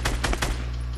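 Rapid video-game gunfire, a loud burst of several quick shots in a tight rhythm that fades into a steady rumble.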